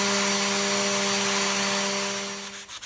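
A quarter sheet sander with 80 grit sandpaper works a carved guitar top, a loud steady electric whir with a constant hum that fades and sputters out near the end, heard alone.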